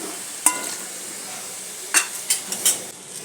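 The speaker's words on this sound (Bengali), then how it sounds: "ডালটা ঢেলে দিলাম।" Tok dal hits a hot pan with a faint sizzle, followed by a few sharp clinks and scrapes of a spoon stirring against the pan, sparse and close.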